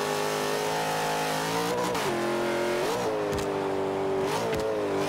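A 1979 Chevy Camaro muscle car revs hard in the racing game Forza 5, its engine note climbing and dipping repeatedly through gear changes, loud and continuous with brief tire squeal.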